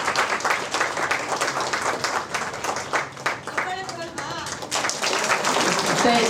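Loud crowd applause honoring folk artists at a film awards event, dense clapping with a public-address voice talking over it partway through before the clapping swells again.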